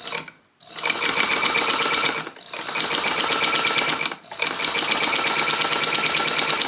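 A 1923 Singer 99k sewing machine sewing a very long stitch, its loud, close, rapid clatter running in three bursts separated by brief pauses, with no voices.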